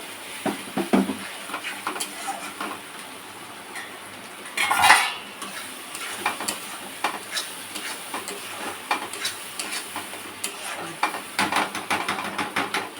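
Spice masala with a little sugar stirred in a pan, heard as a busy run of close metal scrapes, clinks and taps from a ladle against cookware over a faint sizzle, with one louder clattering burst.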